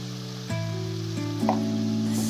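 Spices roast in a pan: turmeric, chili powder, coriander-cumin powder and salt give a soft, continuous sizzle at close range, layered with steady tonal notes that shift pitch a few times.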